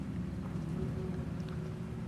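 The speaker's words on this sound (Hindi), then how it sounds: "बहुत तगड़ी बारिश हो रही है" Heavy rain pours steadily in a night-time horror video game set in Pineville, a dense continuous hiss with a low rumble beneath, fairly loud and unbroken, with no voices.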